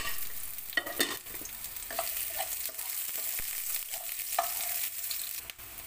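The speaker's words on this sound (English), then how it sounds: "Just saute our onion for about 2 minutes." Chopped onion sautés in a pan for Filipino fish soup (tinola), a steady close sizzle broken by a few sharp utensil scrapes and clinks as it is stirred, with no talking.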